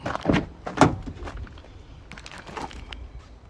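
The rear door of a 2018 Ford Ranger 3.2 TDCi Wildtrak unlatches and swings open with a couple of firm clunks near the start, followed by quieter rustling and handling sounds.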